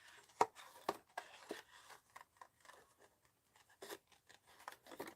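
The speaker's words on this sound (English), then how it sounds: "So I'm just going to cut it out." Scissors snip through a furry fleece pocket in a craft session, a string of quiet, close, irregular cuts with brief pauses between them.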